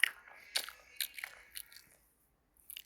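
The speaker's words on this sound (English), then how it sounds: "Sorry for you hearing my extra crunch" Crunchy munching and biting from someone eating, close and fairly quiet, several sharp crunch bursts in the first two seconds, then a short pause before another brief crunch near the end.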